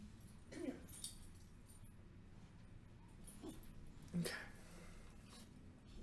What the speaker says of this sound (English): Oh, you're such a good puppy.